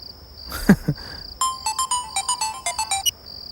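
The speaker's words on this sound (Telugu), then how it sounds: "మాట్లాడుతుంటే కట్ చేస్తావేంటి? మళ్ళీ చేస్తా" A mobile phone ringtone plays as a quick run of repeated electronic chirps, preceded by a brief thump and rustle, loud and close with no talking.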